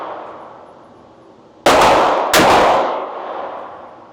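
A .357 revolver fires two loud, sharp shots about two-thirds of a second apart, each ringing with a metallic crack and a lingering echo over a steady background hum, with no talk.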